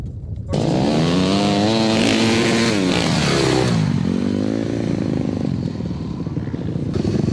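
Dirt bikes of 80cc, 250F and 450 sizes ride together in low first and second gear, their engines droning loudly and steadily with rising and falling revs close by.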